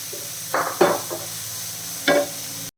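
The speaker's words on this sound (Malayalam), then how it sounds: "ഇതിൻ്റെ കൂടെ നമ്മൾ എടുത്തു വച്ചിരിക്കുന്ന സവാള ചേർത്ത് കൊടുക്കാം സവാള ഗോൾഡൻ ബ്രൗൺ ആവുന്ന വരെ ഒന്ന് വഴറ്റണം" Onions are sautéed in a pan for paneer masala. A few short, close scraping stirs burst over a low, steady sizzle.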